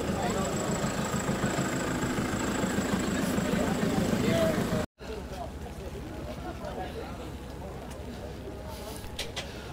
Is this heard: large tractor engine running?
yes